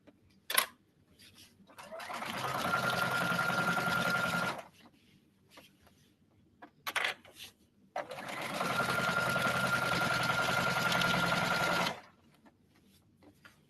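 Sewing machine stitching a sling bag: two long, steady runs of rapid mechanical whirring, each several seconds, separated by pauses with small clicks and handling noises, close and fairly quiet.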